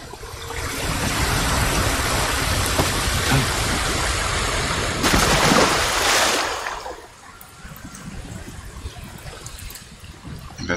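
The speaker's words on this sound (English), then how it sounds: "Investigate the waterfall" A waterfall rushes loudly in the samurai game Ghost of Tsushima, a dense roar that swells briefly, then drops to a quieter trickling spill.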